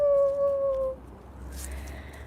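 A person imitates a wolf's howl quietly, a single thin, steady wavering note lasting about a second, followed by near silence.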